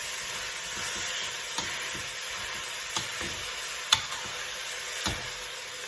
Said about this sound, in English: we need to stir our minced meat with the garlic and the onions